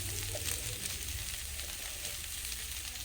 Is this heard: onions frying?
yes